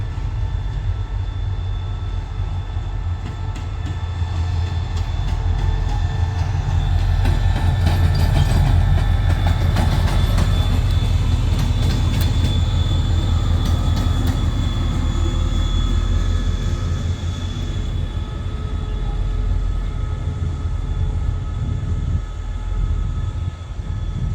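A State Railway of Thailand freight train rolls past with a steady loud rumble, wheel clatter and a high whine across about twenty-four seconds, swelling in the middle and easing slightly toward the end.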